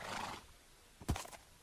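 A horse whinnies once in a video game, a short loud neigh rising out of quiet game ambience, with a faint earlier rustle of background sound.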